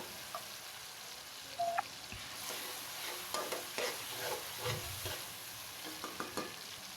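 Tomatoes and spices fry and are stirred in a pan for an aloo gobi curry, a soft steady sizzle with scraping strokes of the spoon and a few light clinks, fairly quiet and close.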